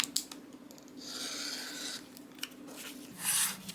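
Scissors cutting through fabric for a quilted bench pillow, with a few short snipping and rasping strokes close by, quiet and with no talking.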